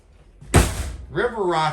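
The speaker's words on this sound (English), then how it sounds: "Oh, I love to slam that door. It sounds so cool. Very solid." Solid slam of the entry door on a 2023 Grand Design Reflection 324MBS travel trailer, a single loud thud followed by someone speaking close by.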